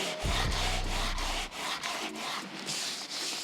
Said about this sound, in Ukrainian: оце я починаю шліфувати